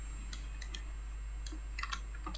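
Scattered computer keyboard key presses, a handful of quick separate taps, soft and close over a faint steady hum, with no talking.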